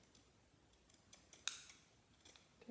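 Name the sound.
scissors making a diagonal cut on quilt strips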